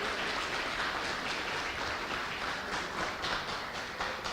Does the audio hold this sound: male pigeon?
no